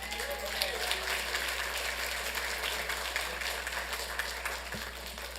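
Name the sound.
applause for the carpenters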